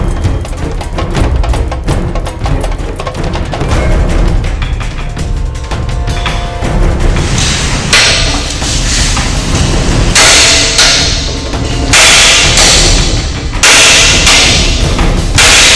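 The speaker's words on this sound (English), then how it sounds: "We used 2 kilogram sledgehammer, continuous hammering of the padlock body and shackle." A 2 kg sledgehammer strikes the body and shackle of an American Secure padlock in a fast, loud series of sharp metallic blows that grow heavier and more spaced toward the end.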